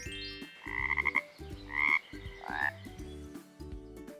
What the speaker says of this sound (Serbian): Ovo je žaba.